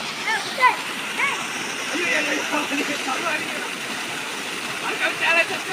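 A small waterfall at Namagiripettai near Rasipuram, its steady splashing rush of water filling the scene, with people talking over it.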